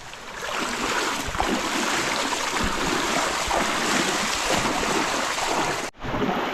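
Floodwater rushes through a rice field irrigation channel in strong wind, a loud, continuous broadband roar and splash that fills the scene without pause apart from a brief dip near the end.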